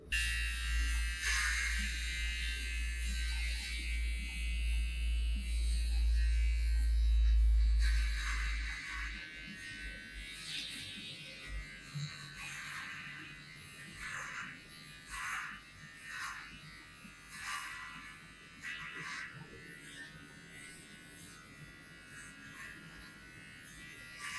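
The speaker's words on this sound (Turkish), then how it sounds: "O yüzden saçımızı kesmeye başlayalım." A Xiaomi grooming kit pro electric hair clipper buzzing steadily while cutting hair, a close motor drone that changes pitch as it moves, with scattered rustles and handling noises in the later part.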